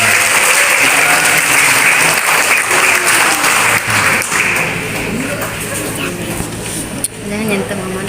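Loud, sustained applause from a crowd at a church wedding blessing, dense clapping that fills the room and slowly thins near the end, with some voices mixed in.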